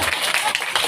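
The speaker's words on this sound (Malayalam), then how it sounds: "ഇഷ്ടപ്പെട്ട കൈയടിക്കാം കേട്ടോ." An audience at a parish ward anniversary stage programme breaks into brief applause, a dense, lively burst of many hands clapping together for under a second.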